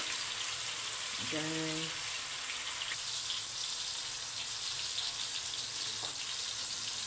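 Eggs and tomatoes frying in a pan give off a steady hiss and sizzle for the whole stretch. A single short spoken word breaks in briefly near the start.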